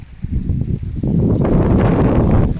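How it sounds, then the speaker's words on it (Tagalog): Strong wind at Sham Chung, Hong Kong, buffets the microphone, a steady low roaring rush that grows louder and more constant partway through. "Oh, mahangin. Mahangin, guys."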